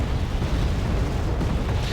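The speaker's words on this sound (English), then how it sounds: "they're gonna get completely greeted by a hail of artillery and cannon fire" Artillery and cannon fire in the Wargame Airland Battle video game, heard as a continuous low rumble of overlapping explosions and booms, dense and heavy throughout with no distinct gaps or voices.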